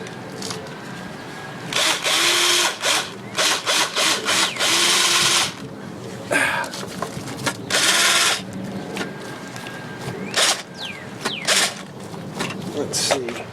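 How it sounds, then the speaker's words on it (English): A power drill works in short bursts during an engine install on a Yamaha QT50 scooter, whirring on and off repeatedly at close range with clanks and handling noises between runs. "get my drill"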